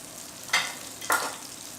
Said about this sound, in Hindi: थोड़ा इसमें ऑयल ऐड कर रहे हैं हम, साइडों से ऐसे डालेंगे।